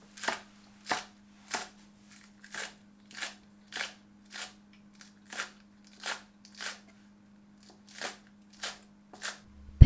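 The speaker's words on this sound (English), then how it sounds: "For the greens, chop into 1/2 centimeter pieces" A knife chops greens for Vietnamese chicken noodle soup on a cutting board, sounding as a steady series of crisp, evenly spaced strikes, close and alone over a faint hum.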